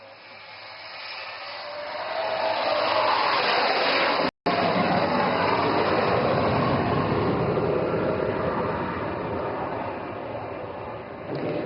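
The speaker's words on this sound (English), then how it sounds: "Bhadoria with Flight Lieutenant Benipal, is now coming in for an overshoot. Observe the massive lifting body and thrust vectoring authority." A fighter jet with a lifting body and thrust vectoring makes an overshoot at an air force airshow in Dibrugarh, Assam, a loud sustained roar that swells and fades, broken once by a short dropout.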